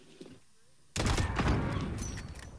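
A sniper rifle in the video game Modern Warfare fires loudly after a quiet pause, its sharp crack followed by a decaying rumble and game noise, with faint voices before the shot.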